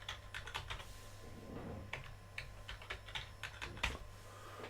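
A password is typed on a computer keyboard with quiet, close keystrokes in short irregular bursts and brief pauses between them, alone over a faint steady hum.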